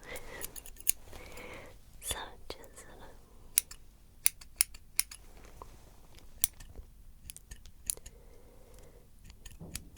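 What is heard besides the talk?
scissors snipping hair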